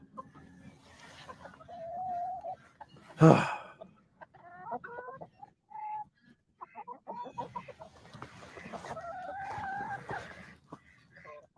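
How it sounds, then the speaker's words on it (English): Chickens clucking and crowing at close range, with a rooster's loud burst partway through and the hens' calls repeating irregularly around it. "All these guys, all these chickens love me, Kyle."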